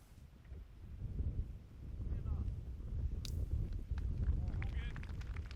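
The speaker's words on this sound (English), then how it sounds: "Here, it's super windy here." Strong wind buffets the microphone on a mountain disc golf course, a steady low roaring rumble that swells and gusts throughout, with faint higher sounds poking through.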